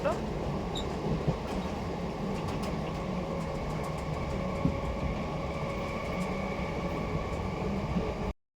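A passenger train rumbles steadily along, with a constant low carriage drone and a faint hum heard from inside the coach until the sound cuts off abruptly at the end.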